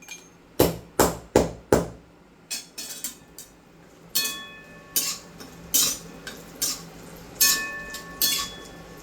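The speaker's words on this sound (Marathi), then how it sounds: "तोपर्यंत हळकुंड थोडी तोडून घ्या." Dried turmeric roots are snapped by hand, an irregular run of sharp, crisp cracks and clinks, some quick doubles and some spaced out, close and clear with no talking.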